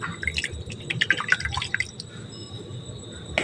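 Water poured to rinse freshly curdled chhana (fresh cheese) in a kitchen, a close series of drips and splashes that are busiest early on and then settle into a quieter trickle.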